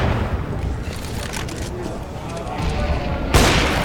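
A grenade goes off during a Counter-Strike: Global Offensive tournament final: a sharp, loud burst near the end cuts through a dense wash of gunfire and game noise.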